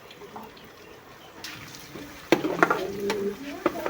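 Tadka of ground masala and fenugreek hitting hot oil for a village-style moong and masoor dal: a quiet lead-in, then a sudden loud crackling sizzle that keeps spitting and popping nearby.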